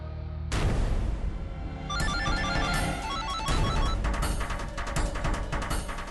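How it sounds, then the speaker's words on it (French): A telephone rings in a French-dubbed TV drama, a loud electronic ringtone with repeating bright tones in a steady rhythm, alone without talk. "Ton téléphone sonne, vas-y décroche."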